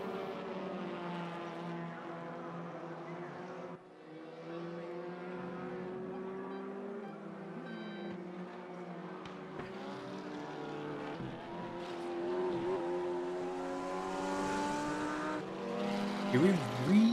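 A TCR/GT4 race car on a fast lap at Mid-Ohio in a racing sim, its engine a steady tonal drone that rises and falls through the gears, with commentators talking over it.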